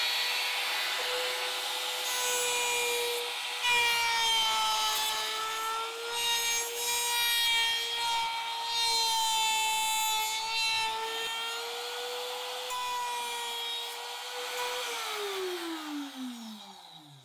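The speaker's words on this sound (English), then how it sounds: "I've set up a template bit on my laminate trimmer" A laminate trimmer fitted with a bearing-guided template bit cuts wood in one steady, loud high-pitched whine with a rough cutting rasp, then spins down at the end. No one speaks.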